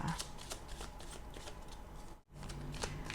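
Tarot cards being shuffled for a reading: a near, continuous riffling patter of card edges with a brief pause near the end before the shuffling resumes.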